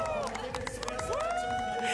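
Spectators cheering at a men's bouldering semi-final in Innsbruck, a short burst of excited shouts and whoops layered over chatter and a steady murmur of voices.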